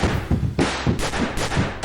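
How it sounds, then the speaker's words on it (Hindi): Rapid bursts of gunfire from several shooters, a sound effect in a Hindi audio drama, sharp loud cracks following one another in an uneven rhythm, prominent and unaccompanied by speech. "वो अलग अलग तरफ से ऊपर दौड़ते शेखर पर गोलियां बरसाने लगे।"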